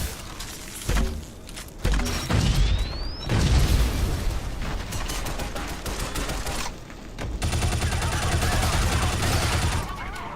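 In the Shadow Complex video game, a coil rifle and missiles fire in dense, loud volleys of rapid shots and booming blasts, almost continuous, with one short lull partway through.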